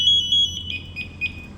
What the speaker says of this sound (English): I'm getting that 30-second pass alarm activation